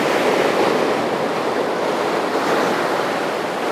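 Ocean waves wash continuously, a broad, steady roar of surf with slow swells in loudness and some wind, heard alone and fairly loud throughout.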